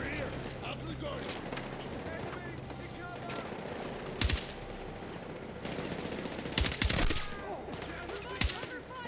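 Gunfire in the Battlefield 6 video game rattles in bursts, with a heavy shot near four seconds and a dense volley around seven seconds, over a background of battle noise and shouting voices.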